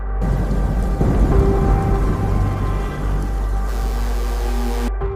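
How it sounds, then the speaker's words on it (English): Violent summer night thunderstorm over Zhejiang, China: a heavy, continuous roar of rain and deep rumbling thunder, loud and close, swelling near the start and holding steady to the end. "A violent summer storm fractures the night sky over Zhejiang, China. Lightning strikes with blinding force."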